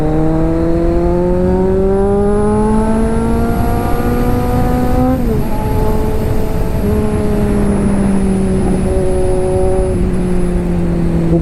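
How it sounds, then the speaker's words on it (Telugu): A Kawasaki Z900 with its stock short-can exhaust is ridden along, engine droning loud and near, rising through the revs, dipping at a gear change around midway, then pulling again. "బాబా దీనికి షార్ట్ క్యాన్ ఉంది, పాప్స్ వస్తున్నాయి అసలు,"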